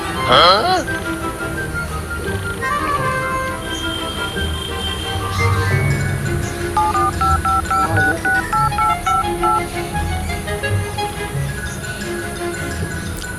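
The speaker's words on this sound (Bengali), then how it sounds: "একবার অর্ককে ফোন করি।" A phone number is dialed on a telephone, a run of evenly spaced keypad tones sounding clearly over steady loud background rumble, with brief voices near the start.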